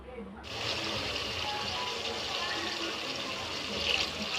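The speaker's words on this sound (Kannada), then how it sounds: "ಇವಾಗ ಇದಕ್ಕೆ ನೀರು ಆ್ಯಡ್ ಮಾಡ್ಕೊಳ್ಳೋಣ" Water pours steadily into a pot of vegetable pulao being cooked, a continuous splashing gush that starts abruptly and runs on at close range.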